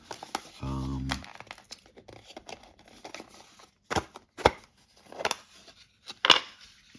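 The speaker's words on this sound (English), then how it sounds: "Let's see if we can pop it out without damaging the extremely cheap packaging" A Burnished Eagle coin being pushed out of flimsy, cheap plastic packaging: several sharp crinkling cracks and pops of the thin plastic, close and intermittent, with quieter rustling between.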